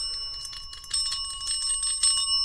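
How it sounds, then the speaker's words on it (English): A small bell, rung to get people's attention, gives a quick series of bright metallic dings that keep ringing out. It is fairly close and clear, with no talking. "I recommend getting something like, a bell here"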